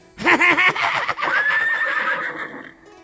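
A horse lets out a loud, close neigh, a long shaking whinny that rises and then trails off over about three seconds, heard alone.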